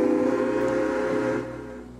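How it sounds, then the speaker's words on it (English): Steam locomotive whistle in the video game Railway Empire, a loud, rich, sustained chord-like blast that holds for over a second and then fades into a softer tail. "we've heard the whistle"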